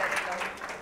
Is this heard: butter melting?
no